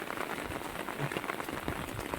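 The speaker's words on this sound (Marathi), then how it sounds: "पाऊस खूप लागतो आहे" Steady rain patters on a surface, a soft, continuous hiss with scattered drops and no voices.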